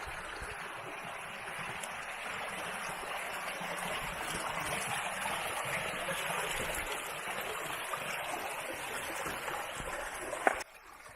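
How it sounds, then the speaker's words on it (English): Fast-moving brook water rushes steadily down a lush, mossy canyon beside a tea plantation, a continuous broadband flow close by with no talking, ending in a brief knock. "of the water, the fast-moving water here."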